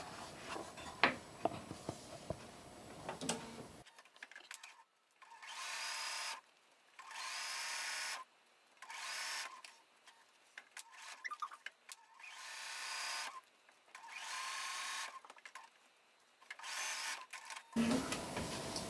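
A sewing machine runs in repeated bursts of whirring stitching with short pauses between them as the quilt blocks are top stitched, up close and steady.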